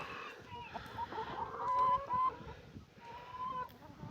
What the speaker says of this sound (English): this is my chicken farm, and this is how much my chickens love me.